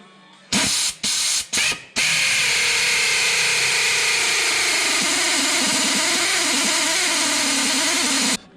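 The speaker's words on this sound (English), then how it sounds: "we drilled out the cam" Drill boring into the camshaft of a triple-turbo 12-valve diesel engine: three short bursts of loud, steady high-pitched drilling, then one long continuous run that holds for several seconds without any talk.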